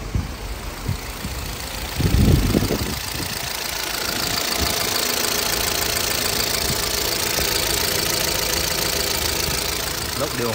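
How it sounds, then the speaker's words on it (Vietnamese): A 2012 Chevrolet Cruze LTZ idles with an engine fault, giving a steady mid-pitched drone and a persistent knocking rattle; a louder clatter comes near the start. "Máy thì gõ kêu."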